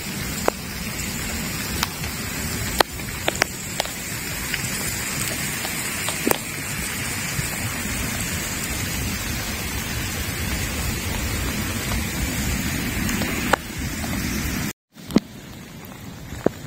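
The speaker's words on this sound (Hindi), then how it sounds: "बारिश तो तेज हो रही है" Steady heavy rain pours down at La Prairie Beach, Mauritius, in a dense, continuous hiss, with occasional sharper drops spattering close by and a brief dropout near the end.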